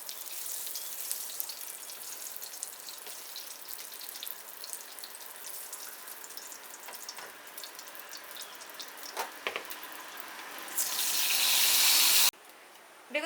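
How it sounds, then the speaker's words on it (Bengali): Eggplant slices sizzle in hot oil for a Bengali begun posto, a steady close hiss and crackle that swells louder near the end before cutting off abruptly. "একই রকমভাবে বাদবাকি বেগুনগুলোকেও আমি ভেজে নেব।"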